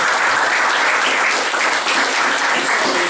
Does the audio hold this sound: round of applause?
yes